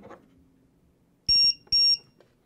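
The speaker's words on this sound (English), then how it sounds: "it gives you audible alarm" Two loud, piercing electronic beeps from a LiPo battery checker alarm in quick succession, each about a quarter second long, over faint background noise.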